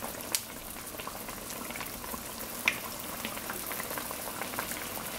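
Vegan fry bakes cooking in hot oil, giving a steady, gentle bubbling and crackling hiss with a couple of sharper pops, continuous and fairly quiet throughout.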